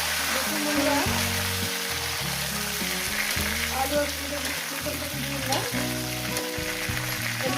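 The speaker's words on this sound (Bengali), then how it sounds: "কয়েক সেকেন্ড একটু ভেজে নেব দিয়ে দেবো এখানে আলু আর ফুলকপিগুলো" Potatoes and cauliflower fry with cumin in a pan, giving a loud, continuous sizzle with bursts of stirring and scraping, close up.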